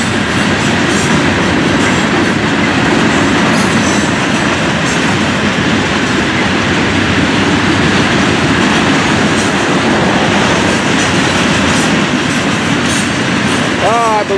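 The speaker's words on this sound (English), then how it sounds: "Everybody likes to watch trains, especially one like this." A freight train rolls past close by, a steady loud rumble with rhythmic clickety-clack of wheels over rail joints and faint wheel squeal throughout.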